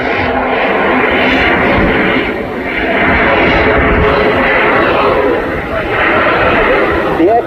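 A Pitts S2E aerobatic biplane with modified wings, tailplane and rudder, flying a display at Blackpool Airshow, gives a loud, steady engine roar that swells and dips slightly throughout. Someone talks over it.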